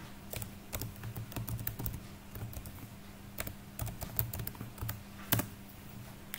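A hostname is typed on a computer keyboard in a quiet room: a quick, uneven run of close, crisp key clicks with brief pauses between bursts.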